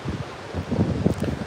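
Gusty wind buffets and rumbles across the microphone, with a rustling, leafy hiss that swells slightly toward the end.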